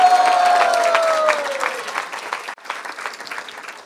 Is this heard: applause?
yes